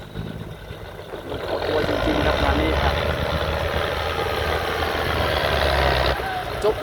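Ford 8210 six-cylinder turbo tractor engine running at a steady idle, a low rumbling drone that grows slightly louder and holds steady, with a voice talking over it.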